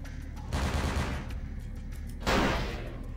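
Rifle in the video game Vampire: The Masquerade – Bloodlines, fired in two separate loud blasts, each with a broad, booming report and a lingering tail over a low background rumble.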